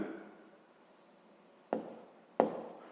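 A pen writing a math formula by hand, two quick close strokes tapping and scratching on paper after a faint quiet stretch, alone without talk.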